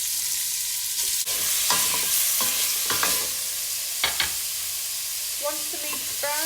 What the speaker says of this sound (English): Now I've got about 1 kilo of diced lamb. We're just going to brown that off in a couple of batches.